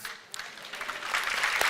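Applause from a church congregation, a dense spread of clapping that starts thin, briefly dips and then builds louder toward the end, with no voices over it.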